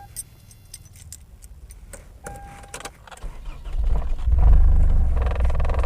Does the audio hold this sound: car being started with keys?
yes